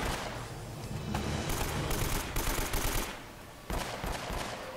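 Rapid automatic gunfire and shots in Uncharted: Drake's Fortune, a dense continuous barrage of bursts with brief lulls, loud and close throughout.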